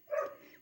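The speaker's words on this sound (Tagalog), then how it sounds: "Pasensya nyo na po yung aso ng kapitbahay. Maingay po." A neighbor's dog gives a single short, mid-pitched bark or yelp, brief and fairly faint, with no talk over it.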